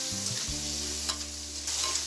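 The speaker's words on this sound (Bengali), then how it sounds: "চিংড়ি মাছটাকেও আমি 2 মিনিটের মতো ভেজে নিচ্ছি।" Prawns frying in a pan for a beetroot dish, a steady close sizzle with a few soft stirring scrapes, no voices.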